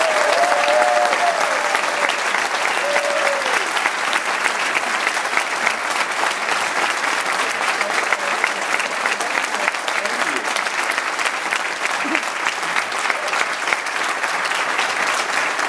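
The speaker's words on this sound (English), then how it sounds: "Let's bring him up with a nice UCLA round of applause." A UCLA crowd at a football signing day event gives a sustained round of applause for coach Jim Mora, dense steady clapping filling the room with a few faint tones early on.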